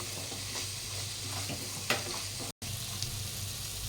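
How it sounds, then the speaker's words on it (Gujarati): Spices with turmeric, Kashmiri chilli and salt are stirred into a stuffed papad curry in a frying pan, with a soft continuous sizzle and occasional scraping strokes, close and quiet, briefly cutting out once. "આપણે બધું સરસ મિક્સ કરી દઈશું."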